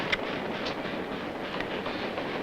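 A train rolls past, a steady rumbling roar with rhythmic clicking from the wheels on the rails and a few sharp metallic ticks, fairly close and unbroken.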